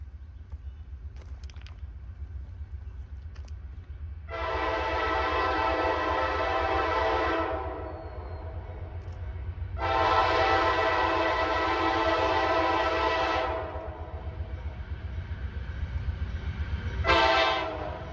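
An intermodal freight train led by Dash 9 locomotives sounds a loud horn at a railroad crossing in Lilly, Pennsylvania, three long blasts and a short final one over a low rumble of the passing train.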